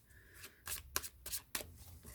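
Game of Thrones tarot cards with thin card stock are riffled and shuffled in several quick, crisp bursts, close and clear with no talking.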